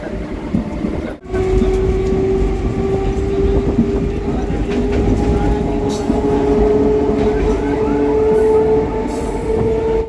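A moving local train rumbles steadily with rattling wheels and a sustained squealing tone, heard from inside a crowded carriage for the whole stretch.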